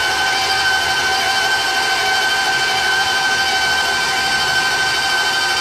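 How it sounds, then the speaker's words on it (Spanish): An electric mixer runs continuously at high speed, beating cake frosting for a New Year's cake, a loud, even whirring drone with no pauses and no talk. "Y vamos a terminar de batir."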